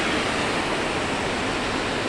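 Steady broadband rush of water flowing through the gatehouse of the Upper Mill Pond dam in Easthampton, Massachusetts, continuous and even throughout with no voices.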